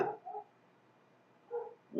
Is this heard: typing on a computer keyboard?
no